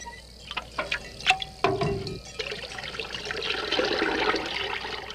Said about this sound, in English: He drew water, excellent water it was too, from a very deep, natural well over which he had rigged a simple windlass.